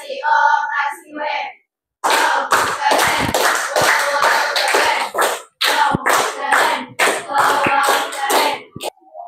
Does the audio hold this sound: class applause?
yes